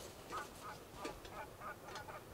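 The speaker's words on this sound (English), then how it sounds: "Geese. Honkers." Several geese honk at a distance outdoors on a ridge during an elk-hunting morning, a scattered run of faint, uneven calls heard alone with no talk.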